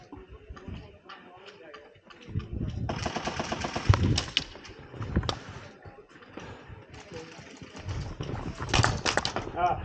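Airsoft guns firing during a game, rapid bursts of sharp clicking shots in irregular clusters, loud and close, with voices calling out in between.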